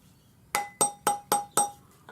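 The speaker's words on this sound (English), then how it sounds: "Tap it with your rawhide hammer," A metal ring blank struck with a rawhide hammer, giving five evenly spaced bright ringing taps and a lighter sixth tap, each one followed by a short metallic ring that fades away.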